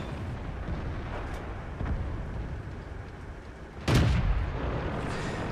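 Tank cannon fire in World of Tanks on the Malinovka map, with a single sharp, loud boom partway through over a low, steady background rumble, preceded by fainter distant shots.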